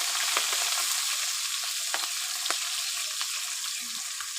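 Chopped onions hit hot oil in a pan and keep up a steady, close sizzle with a bright hiss and a few scattered pops and stirring knocks. No one speaks.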